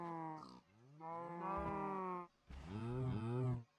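Cows in the Minecraft video game moo in a few drawn-out, tonal lows, three calls in quick succession heard quietly with no talking over them.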